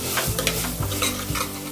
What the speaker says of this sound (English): So now mix this well.